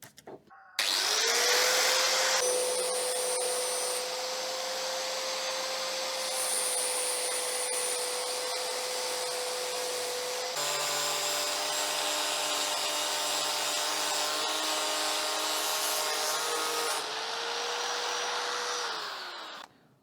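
An angle grinder at around 8,000 RPM with a 320-grit pass and wool polishing wheel works stainless steel or brass, giving a long, steady high whine that shifts pitch partway through and winds down at the end, with no talking.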